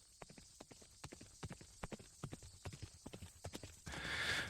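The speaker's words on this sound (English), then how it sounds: "I started out by horse" A horse's hooves clip-clop in a steady, even rhythm of sharp distinct knocks, close and clear, ending in a brief burst of broadband noise with no speech over it.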